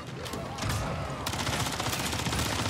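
Rapid automatic gunfire in MW3 Zombies, a continuous rattling burst that intensifies partway through, fairly loud and dense with no talking over it.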